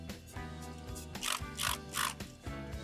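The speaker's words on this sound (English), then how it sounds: "Putting on spritz." A spray bottle spritzes apple cider vinegar onto a smoked pork shoulder in three quick hissing bursts with clicking trigger pulls, set over a steady humming background.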